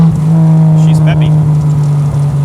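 A 1968 Triumph TR250 driving through a corner, its engine holding a steady, loud drone throughout with slight rises and dips and a few faint higher noises layered on top.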